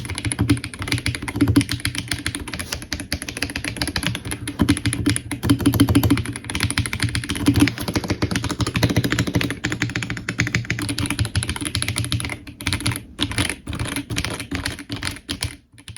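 Rapid, steady typing on a Lego-built mechanical keyboard after foam modding, giving close, muffled, plasticky clicks in a continuous stream that thins near the end.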